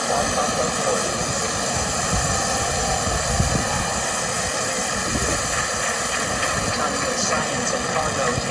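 Roaring rumble of a SpaceX Falcon 9 rocket lifting off from Space Launch Complex 40 on NASA's 30th Commercial Resupply Services cargo mission, a loud, steady broadband crackle heard from a distance under a commentator's voice.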